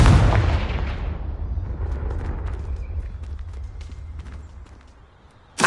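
A Confringo fire spell in Hogwarts Legacy bursts as a loud blast at the start, its roar decaying into a long rumbling tail, with a second sharp hit at the very end.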